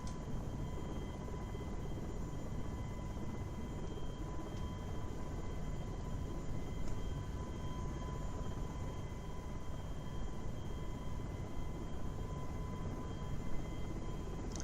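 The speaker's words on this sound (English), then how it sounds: "let's showcase my horrible helicopter's pilot skills again, and let's get ourselves airborne" A steady, droning helicopter engine and rotor hum from an FSX/P3D flight simulator holds constant at moderate level throughout the takeoff, with a few faint tonal whines above the broadband rumble.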